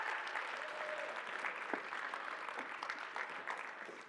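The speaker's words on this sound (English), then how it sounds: "Let's give them a round of applause." Applause from a keynote audience, fairly quiet and distant, a continuous wash of many hands clapping with a few sharper claps standing out and no talking over it.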